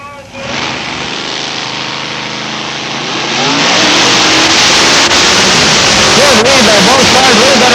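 A drag racing car at the starting line roars loud and close, its engine revving up and climbing steadily into a sustained heavy blare, with no pause.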